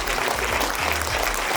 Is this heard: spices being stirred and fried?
no